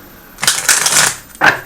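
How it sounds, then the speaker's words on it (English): Two quick bursts of cards being shuffled close by, a longer riffle followed by a short one after a brief pause. "Just a little shuffle."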